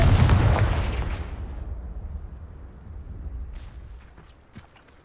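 A Confringo spell in Hogwarts Legacy fires a heavy booming blast that starts loud and deep, then rumbles and crackles away over several seconds with scattered debris-like clatters.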